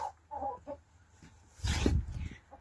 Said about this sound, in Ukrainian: зараз покажу вам, де ті кури лазять